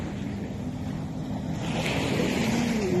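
Sea waves wash steadily along a low-tide shore lined with houses, with continuous surf and wind buffeting the microphone throughout.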